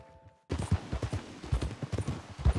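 Horse hooves clip-clopping in Red Dead Redemption 2, a steady walking rhythm of close, moderately loud hoof beats that begins abruptly after a short quiet tone.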